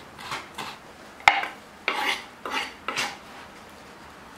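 Garlic cloves crushed and then chopped with a knife on a board, a sharp crack followed by several brief scraping, rasping strokes, close and moderately quiet.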